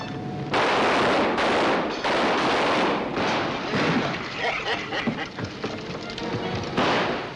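Gunfire in a western film: dense, continuous volleys of shots crackle up close, with speech mixed in under the shooting before a final burst.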